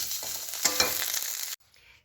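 Bottle gourd leaf paste is stirred in a hot frying pan, a close sizzling scrape with a couple of sharper strokes, then it cuts off into near silence.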